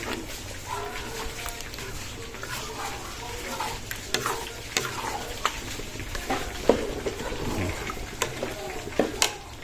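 Food being stirred in a cooking pan after a dash of crushed black pepper: irregular, close scraping and clicking strokes over a low steady background.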